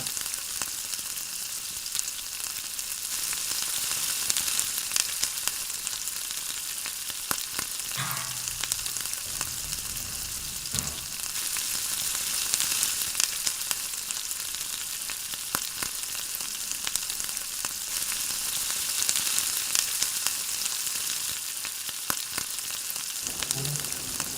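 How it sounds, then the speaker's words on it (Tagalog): Chicken macaroni soup cooking in a pot gives a steady, close sizzle and bubbling hiss that runs unbroken throughout, with occasional small clinks and no voices. "Patuloy lang ang pagpapabula para maluto ng lahat."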